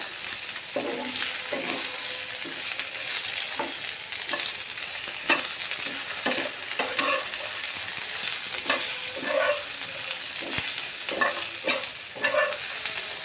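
Steady frying sizzle in a pan with repeated scraping and stirring strokes, fairly close and continuous, no voices.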